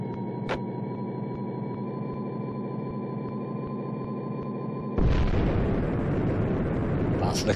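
An enemy convoy blowing up in the Amiga flight game A-10 Tank Killer: a steady droning engine hum with a faint regular ticking gives way to a sudden loud, noisy explosion rumble that carries on to the end.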